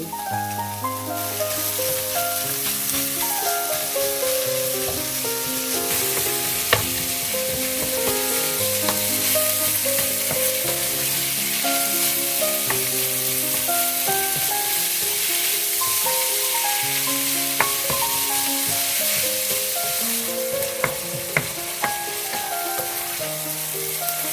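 400 grams of ground pork sizzles and fries steadily in a hot pan for a Thai-style spaghetti sauce, a dense continuous crackle with occasional stirring clicks, close and loud with no talking.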